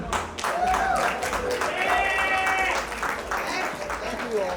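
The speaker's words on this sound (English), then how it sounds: "Please round of applause." Audience applause at a nursing school alumni anniversary gathering, sustained clapping from a crowd with voices and chatter mixed in throughout.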